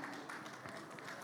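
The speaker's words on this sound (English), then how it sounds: "Please, another round of applause for him there." Audience applause at a conference, a dense patter of many hands clapping at moderate distance, steady through the short stretch with a murmur of voices underneath.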